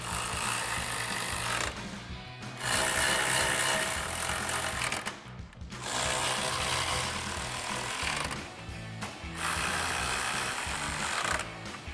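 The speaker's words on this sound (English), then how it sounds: "And then we'll take our 10mm socket and tighten these down." A 10mm socket wrench tightening the top grille bolts on a 2014-2015 Chevrolet Silverado 1500, heard as close, dense ratcheting bursts separated by short pauses.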